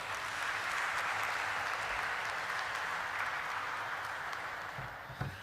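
An audience at a company listing ceremony gives a sustained round of applause as an executive is called to the stage; the clapping is dense and even, heard from a distance before fading slightly.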